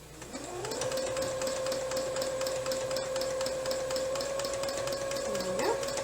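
A small domestic sewing machine quilts in one continuous stitch line, running at a steady fast whir close by after a brief start-up, with no talking.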